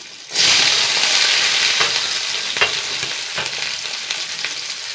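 Dried red chillies and shallots frying in hot oil, a loud continuous sizzle that starts suddenly and carries on steadily with a few faint stirring clicks.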